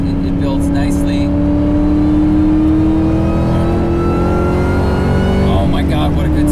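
A 2003 Cobra track car's engine revs hard and close, a loud, steady roar whose pitch climbs gradually before easing off near the end, with a voice briefly over it.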